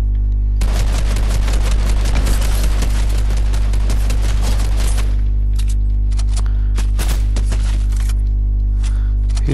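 Gunfire in Fortnite during a squads match: a dense burst of rapid shots for several seconds, then scattered single cracks, loud and close.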